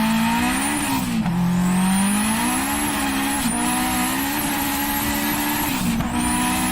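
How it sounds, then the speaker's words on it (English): Honda Integra Type R with a K20 engine revving hard, a loud continuous high-pitched wail rising and falling through the gears, close and alone without talk. "Quick little gander at the video just so we can hear some sick K20 noises."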